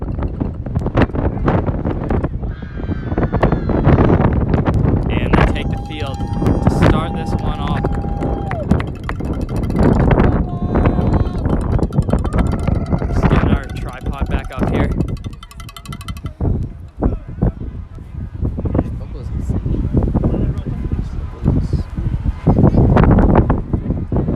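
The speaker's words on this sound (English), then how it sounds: "very windy one here at RFK" Strong, steady wind buffets the microphone throughout at a girls' soccer semifinal at RFK stadium, a loud roaring rumble with gusty surges and occasional fainter background tones.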